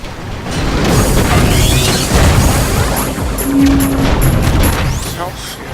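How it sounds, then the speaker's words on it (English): A bomb fired and exploding in the video game Alpha Wave on an nVidia SHIELD Portable: a loud, sustained crashing roar of blast noise that stays dense for several seconds, mixed with electronic game effects. "You've got a bomb, just fire the bomb"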